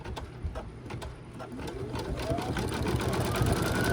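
An embroidery machine stitches the small hanger circle on a 4x4-hoop deer Christmas ornament, a steady close mechanical whirr with rapid needle rhythm that grows slightly louder over the few seconds, heard alone without talk.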